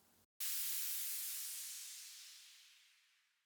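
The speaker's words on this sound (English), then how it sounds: "Airy WN Impact is just a simple white noise sweep" A burst of white noise cuts in sharply after a brief gap, then slowly fades and thins over a few seconds, airy and hissing.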